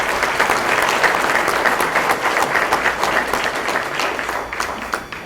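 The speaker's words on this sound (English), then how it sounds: "Let's give them a round of applause." Sustained applause from an audience at an annual meeting and leadership awards event as a new board of directors is welcomed, steady dense clapping that slowly tapers near the end.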